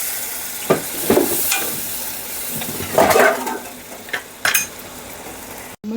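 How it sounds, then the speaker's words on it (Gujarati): Spoon scraping and clinking in a pan as water is stirred into roasted gram flour, a few irregular scrapes and taps over a quiet background hiss, with no talking. "હવે આમાં સેજ પાણી નાખું છું. ચણાનો લોટ આપણો શેકાઈ ગયો છે"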